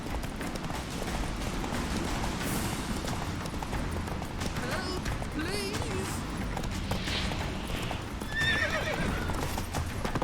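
Geralt's horse Roach gallops in The Witcher 3: Wild Hunt, steady clip-clop hoofbeats running throughout with a couple of loud whinnies and neighs, under game music and shouting voices.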